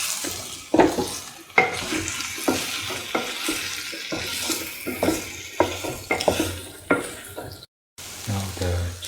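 Chili potatoes sauté in a pan, a steady sizzle broken by repeated scraping stirs and clatters of a utensil against the pan, close and fairly loud, with a brief pause near the end.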